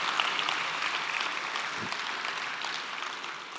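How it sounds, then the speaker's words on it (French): Steady applause from a gala audience at the Domaine Forget, dense clapping held at an even level throughout with no voices over it. "Vraiment, vous pouvez vous applaudir tous."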